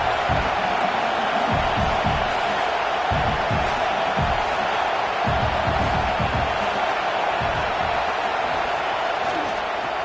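Early in a top-25 college football game, a Miami stadium crowd roars in a constant, dense wash of noise, with heavy low thumps and bursts of cheering scattered through it.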